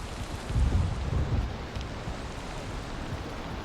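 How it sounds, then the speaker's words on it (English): A low rumble of thunder rolls through early on over a steady hiss of rain in the video game Valheim, fairly faint and distant, with no voices. "it will thunder and piss every time you want to make a video, Springo."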